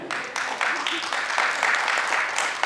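Theatre audience applauding after a Hindi stage play, a steady wash of clapping that swells and holds loud throughout.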